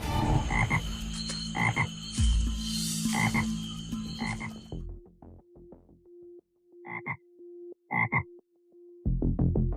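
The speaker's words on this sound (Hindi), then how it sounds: "सोने का मेंढक लगता है।" Frog croaking in short repeated bursts, first within a busy, dense sound bed, then as isolated, distinct croaks spaced a second or so apart over a low steady hum.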